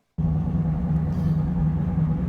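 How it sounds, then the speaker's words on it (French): Inside a 1990s Volkswagen Golf on the move, a worn wheel bearing gives a loud, constant low droning rumble that starts suddenly and holds steady, with no voices. "j'ai un énorme bruit de roulement. Je te laisse écouter, tu vas t'en rendre compte toi-même."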